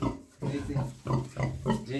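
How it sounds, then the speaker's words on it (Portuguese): Free-range farm pigs, including a sow with four piglets, grunt in a series of short, close, fairly loud bursts with brief pauses between them. "E aqui tem mais uma porca com quatro leitãozinhos."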